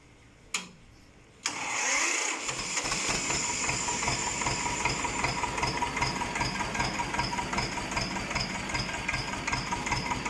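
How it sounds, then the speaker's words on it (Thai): An engine cranks and catches, then settles into a steady, rhythmic idle with a fast, even chugging close by, driving a power steering pump for a front dozer blade. "เดี๋ยวเราจะลองสตาร์ท เครื่องยนต์"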